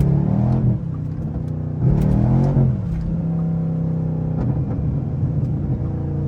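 A straight-piped Pontiac G8 GT V8 revs loudly while sliding through turns, with deep rumbling bursts that swell and drop off in repeated surges, close and raw with no one talking.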